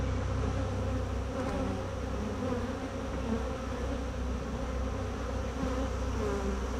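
Honeybees drone in a dense, continuous buzz around an open homestead beehive being reassembled, steady and close throughout with no voices.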